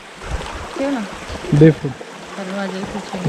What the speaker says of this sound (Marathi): एक छोटासा पाण्याचा झरा लागलेला आहे इथे